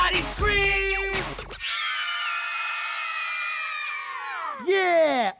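A studio audience on a children's hip-hop dance show screams loudly, a harsh burst followed by one long sustained shriek and a final rising cry, with no talking.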